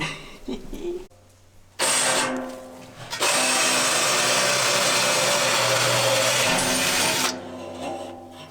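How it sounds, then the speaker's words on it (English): A power drill bores holes for mounting a homestead woodstove pipe, whirring loud and steady for several seconds after a brief first burst, then winding down. "I'll drill the holes and we'll see if it fits"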